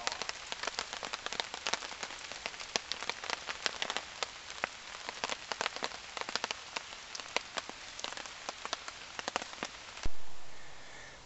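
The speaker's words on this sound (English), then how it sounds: "It's raining a bit now." Steady rain patters on a surface at a woodland wild campsite in Whitwell Woods, with dense, irregular drops throughout, then eases into a softer hiss near the end.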